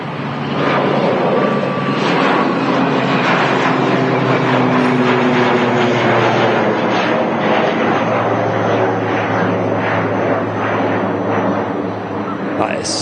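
Logan Air ATR 72 turboprop airliner at Manchester Airport, a loud sustained engine drone with a steady propeller hum throughout, while a person talks over it.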